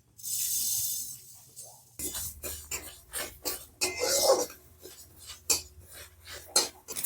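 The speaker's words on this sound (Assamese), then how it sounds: "মই সৰিয়হখিনি এনেকে ভাজি লৈছোঁ" Black and white mustard seeds with dry chillies frying in a wok, heard as close, irregular crackling and popping bursts with metallic scraping of the pan, and no talking over it.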